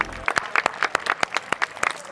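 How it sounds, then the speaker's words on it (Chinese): A small group claps briskly at a marathon athletics stadium, sharp irregular hand claps close by that fill the short moment with no talking. "大家突然帮我鼓掌"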